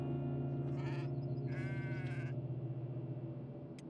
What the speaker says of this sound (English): A small goat. Don't kill it.